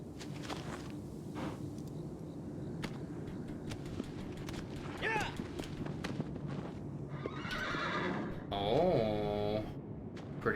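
A horse in Shadow of the Colossus on PS4 gives a clear, loud whinny near the end, after steady clip-clop hoofbeats over continuous in-game ambience.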